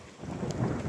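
Thunder rumbles through a thunderstorm, a dense low roar that swells steadily over one second, with rain noise underneath and no talking.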